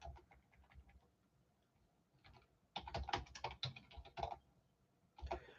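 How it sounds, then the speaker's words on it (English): Typing on a computer keyboard, close clicking keystrokes in short irregular runs with pauses between them, alone in a quiet room. "I will type it in."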